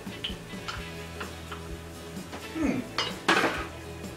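A spoon stirs butter into pudding chômeur batter in a bowl, making light, irregular clinks and taps against the dish. A louder scrape and clatter toward the end sit over a faint background hum, with no talk.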